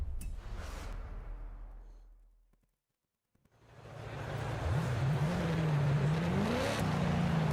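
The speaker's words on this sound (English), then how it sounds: "Now we got a supercharged RS5. This thing pulls like a Hellcat now." A supercharged Audi RS5 in Forza Horizon 5 revs loudly; the engine fades out to a brief silence, then roars back in, climbing through the revs with a rising whine and a strong, steady drone.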